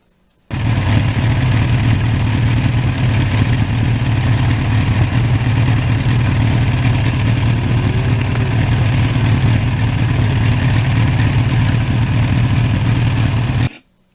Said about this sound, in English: that is one of the most reliable engines in motorcycling.